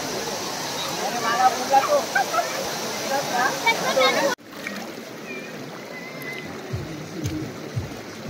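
Bhivpuri waterfall in Maharashtra, a steady broadband roar of falling water for about four seconds, then abruptly quieter water noise with low rumbles, heard alone.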